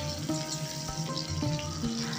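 Chopped onion frying in oil in a pan for a bottle-gourd dish, a dense, continuous close sizzle with faint utensil knocks and no voices.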